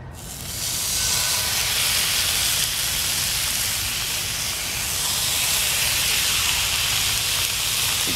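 Ribeye steaks seasoned with olive oil, salt and steak seasoning hit a hot cast iron pot over a fire, bursting into a loud, bright sizzle that starts abruptly and holds steady and close with no voices.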